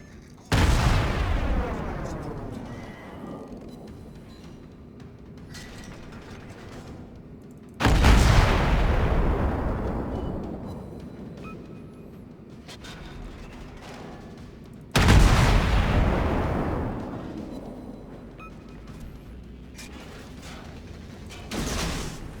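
Naval artillery in the World of Warships game fires three loud salvos about seven seconds apart. Each booms sharply and rolls off in a long, fading rumble, with quieter mechanical creaks in between.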